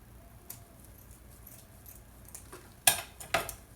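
Scissors cutting through a looped craft strip, two sharp snips near the end of a quiet stretch with faint rustling and handling sounds.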